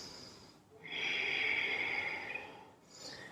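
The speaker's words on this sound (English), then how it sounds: "Deep breath here." A deep, airy breath through the nose held in a Warrior 1 yoga pose, one long steady hiss lasting about two seconds, close and fairly quiet, followed by the start of another.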